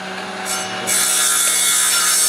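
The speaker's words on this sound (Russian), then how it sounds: "Да выключайте эту пилу." A saw cuts wood at a sawmill with a loud, steady, close grinding whine that swells after a brief start and then runs on without a break, with no talk over it.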